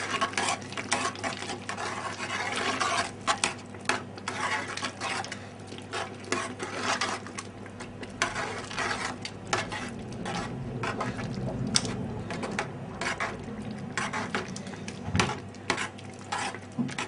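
Fresh tomato Provençal pasta sauce stirred in a pot, a continuous close rasping scrape of the spoon with a faint bubbling sizzle underneath, steady throughout without talk.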